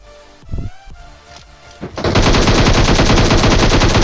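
Sustained automatic gunfire from a shooter video game with an M24 in play, a few scattered thuds first and then a dense, loud rapid burst filling the last two seconds.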